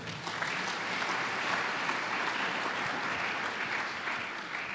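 Church congregation applauding at a service, a dense, steady wash of clapping from many hands that fills the space for several seconds without pause.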